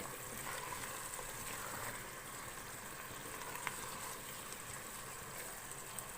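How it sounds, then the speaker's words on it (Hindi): Spinach, turnip and mutton curry with four chopped green chillies sizzles and fries in a pot over a high flame, a steady, faint hiss that runs unbroken throughout with no voices. "अब हम फ्लेम हाई करेंगे और इसको थोड़ा सा भून लेंगे।"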